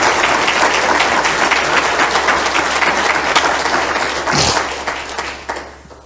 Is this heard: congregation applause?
yes